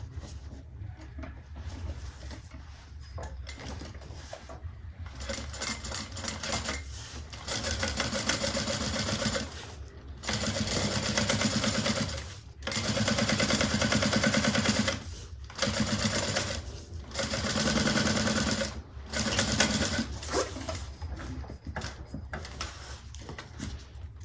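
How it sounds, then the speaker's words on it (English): Top stitching on a bag's lining pieces, a sewing machine whirs nearly nonstop at close range, dipping briefly in short pauses and restarting, steady and moderately loud with no voices. "now we're going to top stitch just like we did before"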